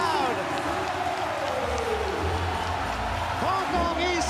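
A basketball arena crowd roars and cheers after a slam dunk, a broad sustained wash of noise with a commentator talking excitedly over it.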